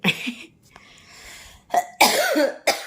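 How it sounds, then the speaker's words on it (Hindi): A few harsh coughs close by, one at the start and a cluster near the end, separated by quiet breathing. "खांसी हो रही है।"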